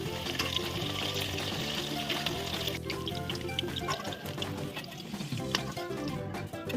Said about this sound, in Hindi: मीडियम फ्लेम में हम इसे फ्राई करेंगे।